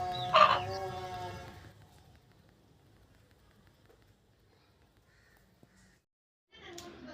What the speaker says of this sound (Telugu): వీడియోలో చూస్తుంది కాకిటేక పుంజు